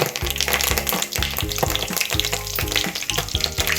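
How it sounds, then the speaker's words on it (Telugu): Mustard seeds and curry leaves sizzling in hot oil in a cooking pot, a busy close crackle with rapid spitting pops and a rhythmic low thumping underneath. "పోపు వేసుకున్నామండి. కొన్ని ఆవాలు,"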